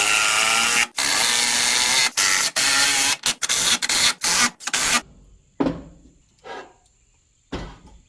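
A power tool drives screws while a 4 kWh battery is built from EVE MB31 LiFePO4 cells. A loud, close whirring motor runs in repeated bursts broken by short stops, then a few brief, fainter buzzes follow.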